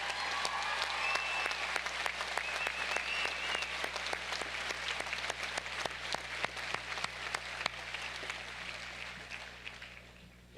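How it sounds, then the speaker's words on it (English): An audience at a 2007 Westfield State College commencement ceremony applauds for several seconds, a dense crowd of hand claps holding steady before gradually thinning toward the end. "Can I please ask we all give Peter one more round of applause?"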